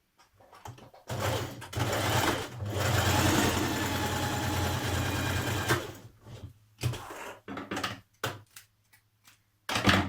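Sewing machine stitching the side seam of a New Look 6543 summer top, a steady buzzing run of several seconds followed by shorter stop-start bursts, close and clear with no talk.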